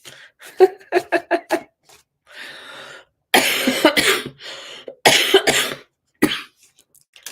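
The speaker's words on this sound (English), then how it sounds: "Sorry about the cough." Several bursts of coughing, some in quick clusters and others single harsh hacks, close and loud with short silences between them.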